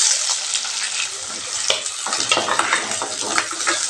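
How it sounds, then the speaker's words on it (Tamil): Small shallots sauté in hot oil with popped mustard seeds, garlic, dried red chillies and curry leaves for a spicy dried-fish thokku, giving a steady, loud, close sizzle with stirring scrapes and no talk. "வெங்காயம் நல்லா வதங்கி வரட்டுங்க"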